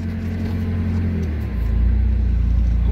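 A salvage 2013 Mazda 3 engine idles, then its low rumble swells midway as the car pulls forward, steady and close with no voices.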